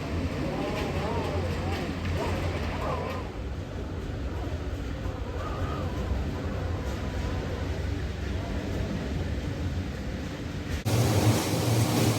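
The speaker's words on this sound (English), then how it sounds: "with the sound of the wind outside" Continuous roaring typhoon wind outdoors in the Philippines, broadband rushing noise, loud and steady throughout, and faint voices briefly audible underneath.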